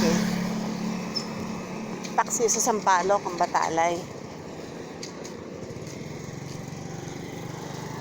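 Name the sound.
many motorcycles in street traffic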